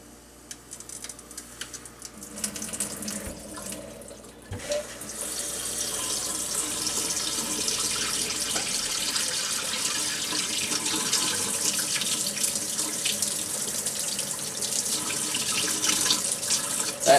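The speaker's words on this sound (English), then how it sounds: "So let's try out the hot water" A kitchen faucet turns on and hot water runs steadily into a sink, a rushing stream that grows fuller after a few seconds of quiet clicks as air clears the line.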